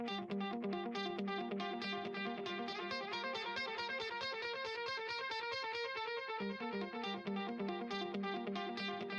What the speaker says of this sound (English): Love a good guitar echo.